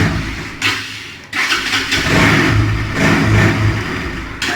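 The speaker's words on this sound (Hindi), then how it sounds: "मैं एक बार स्टार्ट करके भी दिखाता हूँ आपको" A motorcycle started with a duplicate key: a quick crank, then the engine catches and settles into a loud, close, steady idle with slight revs.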